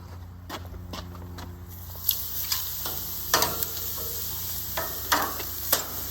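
Thin carne asada sizzling on an outdoor grill beside green onions and links, a steady frying hiss broken by sharp scraping and clattering taps from cooking utensils, close by with no talking.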